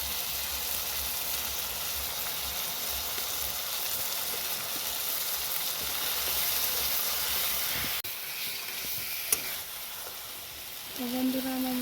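Masala paste seasoned with salt, turmeric and chilli powder fries in a pan with a steady, close sizzle and hiss, stirred now and then, with a brief clink and a short rise in tone near the end.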